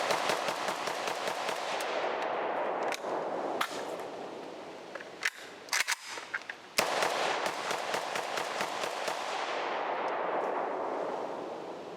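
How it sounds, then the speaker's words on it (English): Rapid bursts of gunfire as magazines are emptied quickly through an AK rifle and a Glock pistol lubricated with canola oil, dense sharp cracks at a fast rhythm with a brief pause midway, loud and close, no talking. "I'm gonna try to just mag dump these and try to run the gun fast and see if I can induce any failures."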